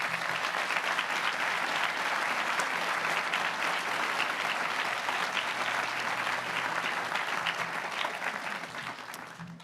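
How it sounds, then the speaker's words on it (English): Sustained audience applause at a school prize day ceremony, a dense steady patter of many hands clapping for nearly ten seconds before starting to thin out at the end. "So could you please take a moment to offer appreciation for everyone who has been instrumental in getting you to this point with a round of applause for them."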